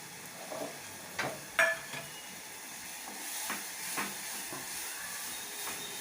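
Bitter field beans sauté in oil in a pan, a soft hiss of frying under several distinct scrapes and taps of a stirring spoon, close and fairly quiet, with no voices.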